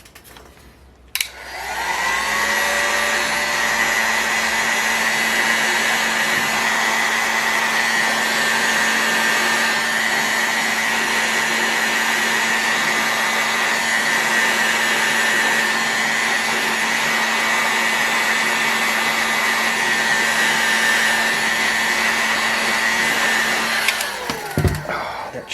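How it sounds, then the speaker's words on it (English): A heat gun or dryer warms an engine bearing housing for an OS 61VF engine, starting with a click and then blowing a loud, steady whirring roar with a constant tone until it is switched off. "We'll heat this housing up and drop that bearing in real quick."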